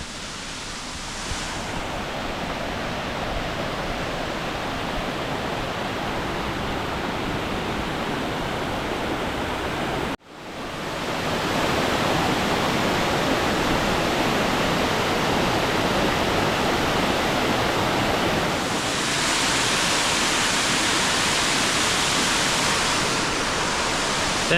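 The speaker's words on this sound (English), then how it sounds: "All right, let's go check out this waterfall." A waterfall near Mount Rainier roars as a loud, steady broadband rush that fills the whole clip, briefly cut at one point, then continuing just as dense and close with no talking.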